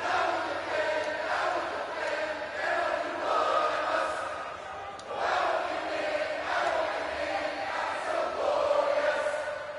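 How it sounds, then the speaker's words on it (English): Game crowd noise from an NXT arena in WWE 2K18, a steady, dense roar of many voices with swelling chant-like surges, loud and continuous throughout. "I like how the NXT crowd chants as well."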